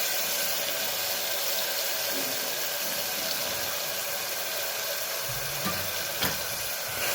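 Water poured into hot oil seasoned with red chilli powder and salt, giving a loud, even, rushing hiss that stays constant throughout, with a couple of soft knocks near the end.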